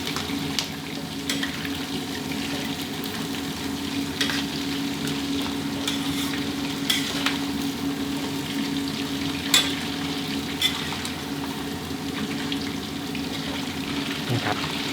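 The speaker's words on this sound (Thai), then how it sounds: "นี่ยังทอดด้วยไฟกลางค่อนไปแรงต่อเนื่องอยู่นะครับ" Batter-coated chicken deep frying with kaffir lime leaves over medium-high heat gives a steady, close, continuous sizzle and bubble, broken by occasional light clinks and scrapes of stirring.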